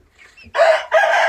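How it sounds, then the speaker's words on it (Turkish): A rooster crows in two loud, close bursts after a few soft clucks from hens in a coop. "Bence bir horoz üç tavuk bu."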